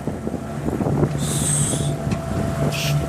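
Steady wind rushing across the microphone on a sailboat on open water near Symi, with a low hum underneath and brief higher whistling tones drifting in.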